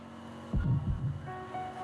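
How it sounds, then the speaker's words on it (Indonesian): Low, throbbing heartbeat sound effect in a TV quiz show, a few deep thumps rising over a steady musical hum and drone, with no talking. "Ada bunyi degup jantung."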